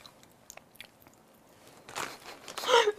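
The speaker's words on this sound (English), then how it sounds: "I know you guys can only hear me chew and it's weird" Close, crisp crunching and chewing of a pepperoni snack, scattered soft bites at first, then louder wet crunches building toward the end.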